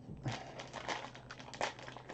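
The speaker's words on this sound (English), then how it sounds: "So the first thing we're going to do is we're going to open our bag" A plastic bag holding a clay kit is pulled open by hand, giving quiet, close crinkling and rustling in short irregular bursts.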